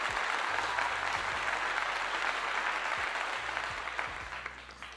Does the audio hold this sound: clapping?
yes